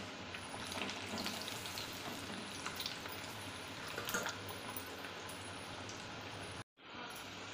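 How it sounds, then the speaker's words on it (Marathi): French fries crackle and bubble steadily in hot oil over high heat, a continuous soft sizzle with a brief dropout near the end. "हे आपल्याला मोठ्या आचेवर फ्रेंच फ्राईज तळून घ्यायचे आहेत"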